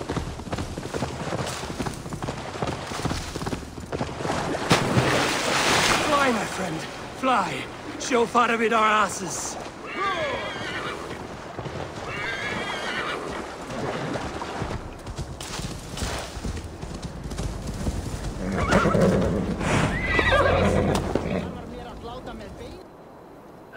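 Horse hooves clip-clop steadily at a gallop through a Viking-era game world in Assassin's Creed Valhalla, running continuously under several voices talking back and forth over the ride.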